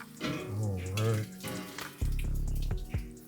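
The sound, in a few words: water running from a tap to rinse a blender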